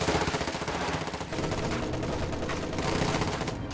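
Machine gun fire in the Company of Heroes 2 battle, a dense, continuous rattle of automatic fire and battle noise that stays loud throughout.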